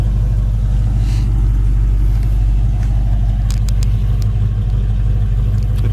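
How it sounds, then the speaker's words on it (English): A 1967 Ford Mustang convertible idles through its new dual exhaust with a loud, steady, close low rumble and an even pulsing beat, with a few faint clicks over the top. "New dual exhaust, sounds good out the back."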